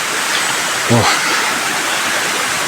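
Hot spring water at Mapaso in Santiago, Agusan del Norte, rushing in a steady close broadband hiss like a small cascade, with a brief voice cutting in near the start.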